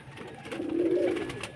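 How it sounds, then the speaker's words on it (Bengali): Pigeons kept for sale coo once, a soft, close, rounded call that swells and fades over about a second above a quiet background. "দেখুন কত সুন্দর পায়রাগুলি।"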